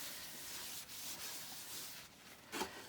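Cleaner being rubbed by hand over a kitchen surface, a soft continuous scrubbing swish with a few uneven strokes and a brief louder scrape near the end.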